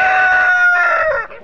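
A tiger-breed rooster crows on a farm: one loud, close, drawn-out cock-a-doodle-doo with a few clucking notes trailing off at the end, heard alone.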